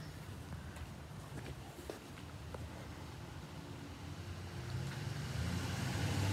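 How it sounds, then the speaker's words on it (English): A neighbor's Dodge Ram pickup truck arriving, its engine rumble growing steadily louder and nearer toward the end over faint background noise. "Oh, the neighbor's coming back with his new truck."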